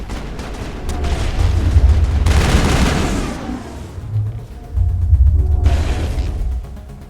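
Armature enemies fighting in Mass Effect combat, loud mechanical creaking and ratcheting with booming weapon fire, heavy rumbling bursts in two long waves separated by a quieter stretch.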